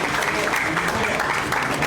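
Brief applause at a press conference, a dense continuous patter of clapping from a gathered crowd with possible voices mixed in.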